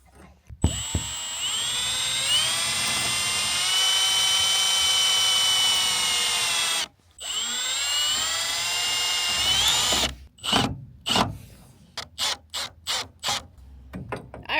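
A power drill drives screws with a long whining run, a short pause and a second run, then a series of quick ratcheting bursts with gaps between them, loud and close on a farm.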